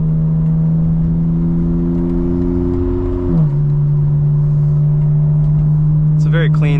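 A 2025 BMW M4 Competition xDrive in Sport Plus with valves open and burbles off pulls hard in launch control, its steady engine drone dropping in pitch at a gearshift midway, heard from inside with a brief voice at the end.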